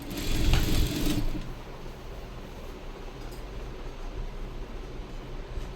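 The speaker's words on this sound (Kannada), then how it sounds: "ಹಾಗಾಗಿ ಎರಡರ ಮಧ್ಯೆ ನಾನು ಸ್ಟಿಚಿಂಗ್ ಅನ್ನೋದನ್ನ ಕೊಡ್ತೀನಿ" A sewing machine stitching a high neck blouse gives a steady, close mechanical whirr, louder and busier during the first second, then settling into an even running hum to the end.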